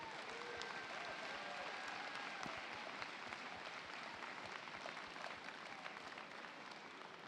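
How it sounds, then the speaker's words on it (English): Sustained applause and crowd noise fill a large hall at a FIRST Tech Challenge robotics state championship tournament, steady and dense throughout with no break. "let's have a round of applause again for all of the teams who've competed today"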